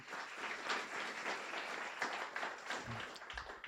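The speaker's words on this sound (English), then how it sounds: "let's give him a round of applause for that" A guide dog graduation audience applauds a staff member, giving soft, even clapping with a faint, distant feel that holds steady throughout.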